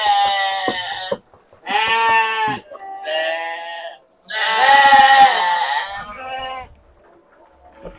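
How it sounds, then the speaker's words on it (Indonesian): A newly arrived flock of sheep bleats loudly on a farm in Kedung Bengkong, Sragen, several long wavering calls from near animals in overlapping bursts separated by short pauses. "ini domba yang baru datang dari Ferry's Farm"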